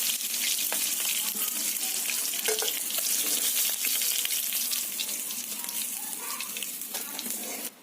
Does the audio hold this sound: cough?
no